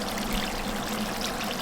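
Excess oil being poured off a Peshawari charsi mutton karahi, a steady, close trickling and pouring liquid sound with no pauses.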